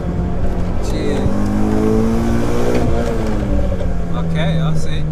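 A modified BMW 116i with a 2-litre engine revving hard, loud and close, its pitch climbing and falling in repeated rises, with voices talking over it.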